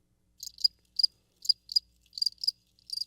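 Cricket chirps sound alone against silence, arriving in short, evenly spaced high bursts that repeat steadily throughout.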